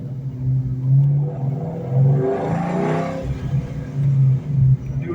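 A supercharged 2004 Ford Mustang Mach 1 engine revs up and settles back while driving, a steady low mechanical drone with rising and falling pitch, close and fairly loud throughout.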